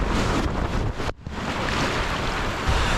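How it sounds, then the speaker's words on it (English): A tube raft at a waterpark slide ends in a splashdown, heard as a loud continuous rush of water and wind noise with a brief dip before the surge continues. "Picks up a little speed here at the end, and then a splashdown."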